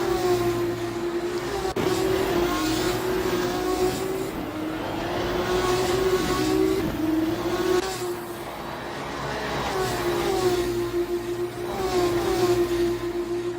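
Simulated 2018 F2 race cars in Assetto Corsa at the Brazilian Grand Prix, several engine notes droning and shifting pitch steadily for the whole stretch as the cars run close together, loud and continuous with no talk.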